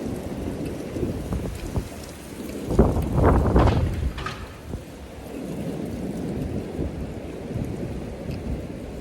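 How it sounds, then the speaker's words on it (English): Strong wind roars and buffets steadily, with a louder rumbling gust in the middle before easing back to a constant rushing blow. "It's really windy."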